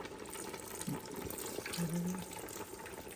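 Jalapeno juice pours into a pot in a quiet trickle, a brief soft splashing stream against low room noise.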